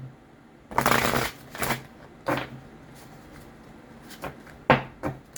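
A deck of tarot cards is shuffled in several quick riffling bursts of papery flutter, close and crisp, separated by short pauses.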